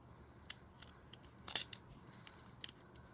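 Scissors snip through paper while a snowflake is cut out, giving a handful of short, crisp close-up cuts with one longer crunchy snip near the middle, alone with no talk.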